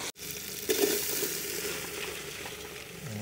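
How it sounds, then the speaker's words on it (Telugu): Bay leaves and whole spices sizzle in hot oil in a pan during outdoor cooking, a close, steady frying hiss with a brief stirring scrape near the start and no voices. "బే లీఫ్ కొద్దిగా ఇలా ఫ్రై అవుతాయి"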